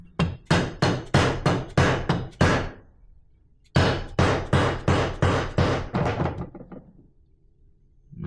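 Sharp metallic hammer blows drive a bearing into a motorcycle hub through a socket, struck in two quick series of about seven blows each with a short pause between them. The blows are loud and close.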